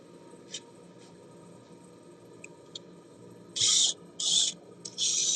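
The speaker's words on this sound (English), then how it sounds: "let me get my brushing sander" A brush sander grinds against wood on a lathe in three loud, close bursts of rough rasping, with quieter scrapes and taps before them.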